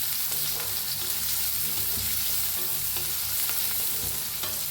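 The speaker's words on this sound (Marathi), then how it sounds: "हलवून छान लालसर होसर कांदा भाजून घेऊया." Chopped large onion sizzles in hot oil in a pan for a drumstick vegetable dish while it is stirred, a dense, steady frying hiss with faint scraping strokes, close and continuous with no talking.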